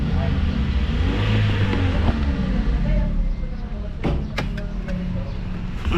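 A 2019 Toyota Vios with a check-engine fault idles steadily with a low, continuous engine drone throughout, with a few brief clicks or knocks near the end and people talking nearby.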